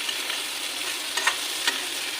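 Sliced bitter gourd (karela) fries in oil in a pan, a steady close sizzle broken by two short scraping clinks of a spatula stirring.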